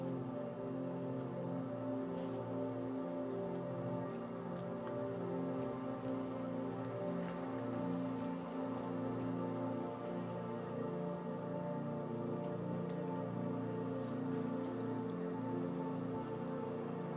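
Gentle rain falls steadily and evenly, a soft continuous hiss with scattered drips, fairly quiet and unbroken, with no voices over it.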